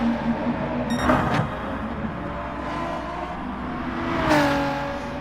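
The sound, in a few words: NASCAR race cars in video game Gran Turismo Sport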